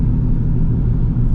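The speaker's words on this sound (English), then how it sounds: "this is it here, where this car's turning in." Car turning in, a loud, close low rumble of its engine and tyres rolling slowly, steady throughout with no other sounds.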